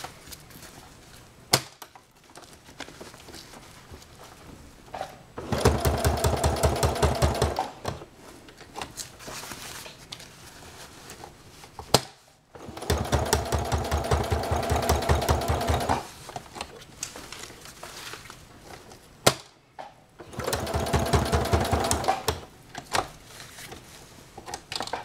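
A sewing machine stitching hook-and-loop aplix tape runs in three steady buzzing bursts of several seconds each, close and loud, separated by quieter pauses with small handling clicks.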